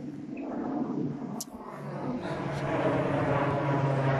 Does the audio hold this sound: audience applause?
no